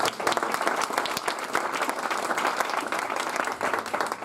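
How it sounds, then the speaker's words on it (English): A meetup audience at a tech event on connected cars applauds steadily, dense clapping filling the room from start to finish with no break. "So if you can give a round of applause,"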